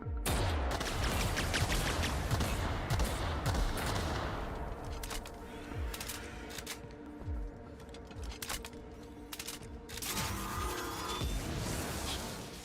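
Grenade launcher fire in the video game The Outer Worlds: a rapid series of sharp, explosive bangs and booms in irregular bursts over a continuous rumble of combat, steady and fairly loud throughout, with no speech.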